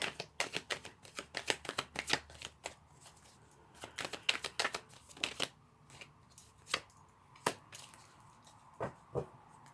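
Tarot cards being shuffled by hand, heard as quiet, close, irregular bursts of crisp riffling clicks and flicks, clustered early and thinning out later, with no talking.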